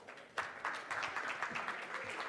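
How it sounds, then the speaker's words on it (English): A conference audience at a Node developers' meetup breaks into applause for a speaker, a short burst of steady clapping that begins sharply and stays fairly faint and distant. "So give him a warm round of applause."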